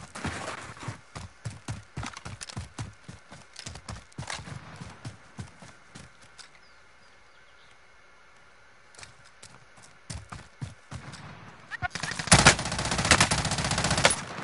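Rapid bursts of automatic gunfire in the shooter game Warzone, with close, loud rhythmic shots, a lull in the middle, then a heavy dense volley near the end.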